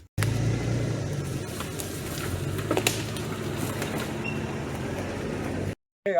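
A 1997 Jeep XJ Cherokee with a 4.5-inch short-arm lift and 32-inch tires drives off-road, its engine producing a steady loud rumble with rattles and bumps over uneven ground before a brief cut near the end.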